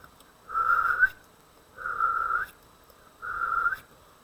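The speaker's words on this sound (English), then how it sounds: "out came a real whistle" A person whistles three sustained, even tones in a steady rhythm, each about half a second long and separated by short pauses, clear and close.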